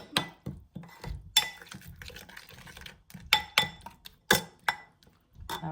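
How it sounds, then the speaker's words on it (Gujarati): A spoon stirs paneer tikka masala with garam masala and garlic-ginger paste in a pan, making irregular clinks and scrapes against the metal, with a few louder knocks among softer shuffling. "બધું મિક્સ કરી લેવાનું"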